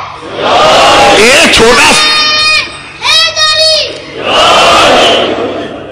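A crowd of children at a religious gathering chants slogans loudly in unison, with rising shouted calls in bursts separated by short pauses.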